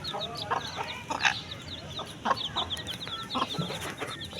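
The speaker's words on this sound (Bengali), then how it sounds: "এই যে আমি স্টার্টার ফিডটা এখানে দিচ্ছি, এখানে তারপরে দেখবেন কি সুন্দর করে খায় আমার মুরগিগুলো।" Young chickens eating starter feed cluck and chirp in short repeated bursts, close and fairly quiet, over a soft background hiss with no talking.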